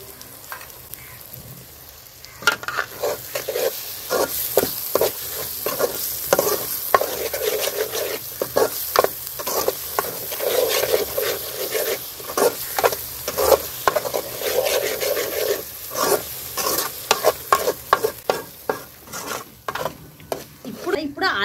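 Tomato pulp with ginger and coriander sizzles in a pan while a spoon scrapes and stirs it in a steady rhythm, close and fairly loud, with a faint voice in the background.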